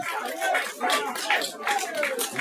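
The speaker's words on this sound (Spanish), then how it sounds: "El aplauso para él" Crowd applause for the top goal scorer at a senior championship final, a steady wash of clapping from many hands that swells in several waves, with some voices mixed in.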